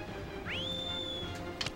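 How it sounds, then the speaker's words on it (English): A single whistle in the video game Shadow of the Colossus, aimed at a colossus: a clear rising tone that holds steady for most of a second before fading, over low game ambience with a faint thump near the end. "we're not getting his attention with the whistle"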